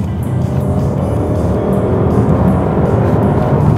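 A powerful Audi RS7 engine roars steadily and loudly, a dense rumbling drone that holds throughout without any voices.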